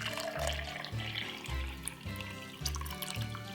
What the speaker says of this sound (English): then we're gonna put some water inside of it